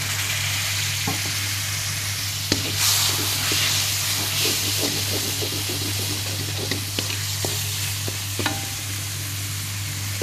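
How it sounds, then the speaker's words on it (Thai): Curry paste frying in a wok with a little water added, giving a steady close sizzle and hiss with scattered scraping stir clicks, over a constant low hum. "ผัดพริกแกงได้ที่แล้ว เติมน้ำลงไปสักนิดนึง"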